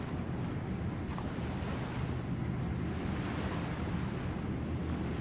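Waves roll steadily onto a lake shore in a continuous broad wash of water, loud and close, with wind rumbling over the microphone throughout and no voices.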